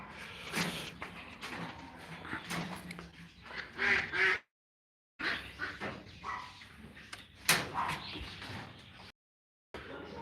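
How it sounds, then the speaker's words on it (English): Ducks quack repeatedly at close range in an outdoor yard, in loud scattered bursts broken by two brief silent gaps. "Ducks on this side."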